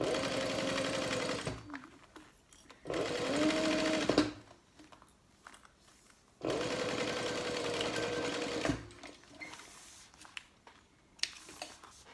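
A sewing machine stitches card slots on a leather-free mini wallet in two sustained bursts of rapid, even whirring, separated and followed by quieter handling noises.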